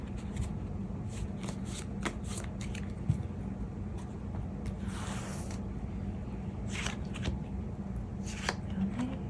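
Tarot cards are shuffled and drawn close up, making repeated soft riffling and flicking bursts with sharp snaps between them over a quiet room hum, and no voice is heard.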